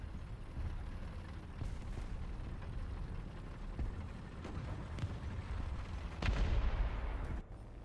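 Bomb explosions in the War Thunder game during an air raid: a steady rumbling battlefield with several sharp distant blasts, then a bigger, louder detonation near the end that rolls off quickly.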